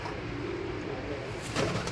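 A pet pigeon coos close by, soft low murmuring calls over a background hum, with a brief louder rustle near the end.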